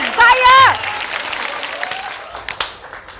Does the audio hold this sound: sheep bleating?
no